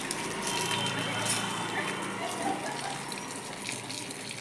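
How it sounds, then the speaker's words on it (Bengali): Water gushes steadily from a hose pipe onto garden plants in the afternoon, a continuous broad splashing rush, close and even throughout, with a voice speaking faintly underneath. "আর আমি এখন গাছে পাইপ দিয়ে জল দিচ্ছি।"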